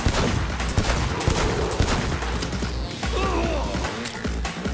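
Gunshots in Cyberpunk 2077, with rapid bursts of close, sharp gunfire crackling over other game noise and a voice talking underneath.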